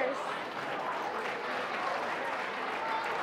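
Audience at a regional school science competition awards ceremony applauding the winners, a continuous, fairly quiet and distant wash of many hands clapping.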